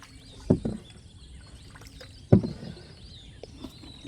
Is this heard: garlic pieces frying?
no